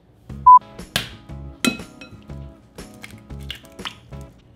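Two whole eggs cracked against a hard edge for a lava cake batter, sharp clinks and crunches followed by wet drops and squishes into a bowl, several close taps spread across a few seconds.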